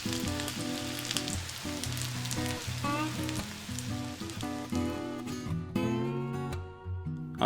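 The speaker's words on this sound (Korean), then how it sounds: "중약불에 팬 올려서 기름은 충분히, 계란옷 입혀서 한 판 올려줍니다." Egg-coated perilla leaf pancakes fry in plenty of oil in a pan over medium-low heat, giving a steady, close sizzle and crackle throughout with no talking.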